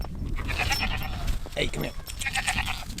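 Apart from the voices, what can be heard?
goats bleating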